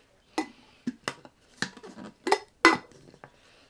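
A plastic container lid handled at home, giving a handful of sharp clacks and rattling knocks spaced irregularly, close and fairly loud, with quiet between them.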